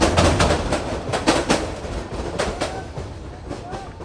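A train rumbles across the Kawraid-Goyeshpur rail bridge over a river with rhythmic clickety-clack of wheels on rails, fairly distant, fading slightly toward the end.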